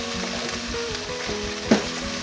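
Onions and sugar sizzle steadily in a hot frying pan while being stirred, with one sharper scrape or clack of the utensil partway through.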